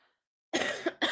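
Two harsh, close coughs in quick succession after a stretch of near silence, the second following about half a second after the first.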